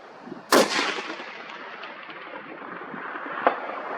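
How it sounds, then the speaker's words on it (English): A Ruger Precision Rifle in .338 Lapua Magnum fires a single heavy shot outdoors, a sharp loud crack followed by a long rolling echo that fades, with a fainter distant thump about three seconds later. "first shot."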